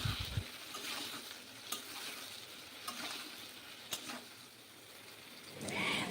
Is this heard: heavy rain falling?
no